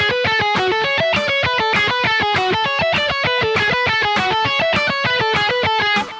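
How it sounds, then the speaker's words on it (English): Distorted electric guitar playing a rapid 12-note phrase, an ascending sweep followed by descending alternate picking, repeated in even sixteenth notes with crisp, evenly spaced attacks and no talking. "there's a 12-note phrase that uses an ascending sweep and a descending alternate picking phrase"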